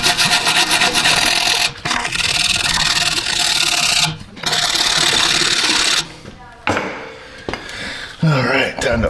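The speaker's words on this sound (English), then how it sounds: "But let's get a little wire brush. We can get in here. We'll clean this up." Wire brush scrubbing the rear axle nuts on a 2012 Jeep Wrangler, loud rapid rasping strokes in bursts separated by short pauses, with scraping and clinks near the end.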